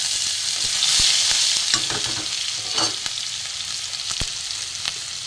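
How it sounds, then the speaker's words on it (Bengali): Chopped garlic hits hot oil left over from frying fish in a wok, giving a loud, continuous sizzle with sharp spatula scrapes and clacks scattered through it, no voices. "এবার আমি কড়াই তেল আছে, এতে আমি একটু রসুন কুচি দিয়ে দেবো"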